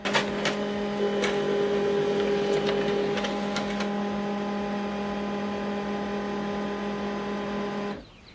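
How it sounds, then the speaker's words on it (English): An HP LaserJet All In One printer runs steadily through a document for about eight seconds, a close, continuous mechanical hum with a few brief clicks near the start, then it stops abruptly. "Now this document is printing."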